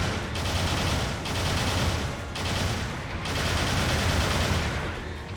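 A machine gun fires in Gundam Battle Operation 2, loud continuous rattling bursts close up, broken by short pauses into roughly four sustained volleys with no voices over them.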